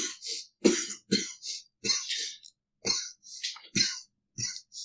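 Repeated harsh coughs and throat clearing, about ten bursts in an irregular rhythm, close and fairly loud with short silences between them.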